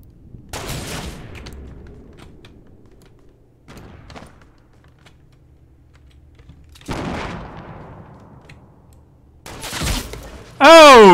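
Sniper gunfire in Fortnite Battle Royale: several sharp, separate shots crack out of near-silence at uneven intervals, followed by a final loud, ringing electronic tone.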